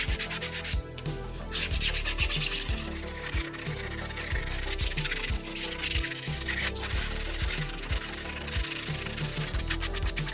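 Continuous close rubbing of sandpaper over a 3D printed FDM plastic Terminator T800 endoskull, steady rhythmic back-and-forth scratching strokes throughout, with no talking.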